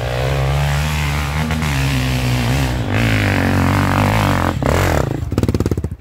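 An off-road vehicle strains up a steep, nearly impossible hill at a trail event, its engine revving loud and close with shifting pitch, then dropping into a choppy, sputtering rhythm near the end.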